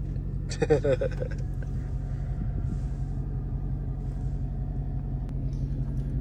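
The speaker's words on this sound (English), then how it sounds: "driving around in a Hellcat" A Dodge Hellcat drives along with a steady, loud low engine rumble and road noise throughout, with a brief burst of other sound near the start.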